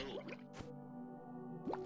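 A ball of water in The Binding of Isaac: short wet plopping and squishing splashes, one early, a sharper burst midway and another near the end, over a steady tonal game music bed.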